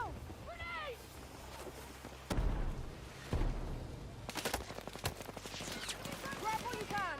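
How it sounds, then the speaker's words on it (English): Enemy machine gun fire in the multiplayer shooter Battlefield 6, with sharp bursts of gunfire and rapid rattling shots over a busy battlefield bed, under shouted voices and radio chatter. "Contact enemy machine gun."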